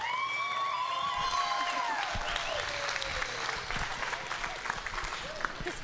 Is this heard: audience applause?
yes